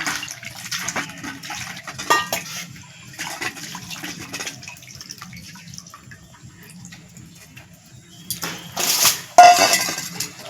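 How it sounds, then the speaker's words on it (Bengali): A whole coconut being washed, with running and dripping water, hollow knocks and clinks of handling in a sink, growing louder and splashier toward the end. "এখন এই নারকেলটা আমি ভালো করে ধুয়ে নেব"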